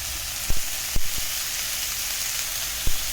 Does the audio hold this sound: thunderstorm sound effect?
no